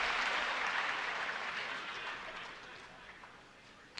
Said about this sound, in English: Why is there an applause to that?